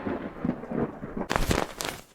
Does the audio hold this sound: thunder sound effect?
yes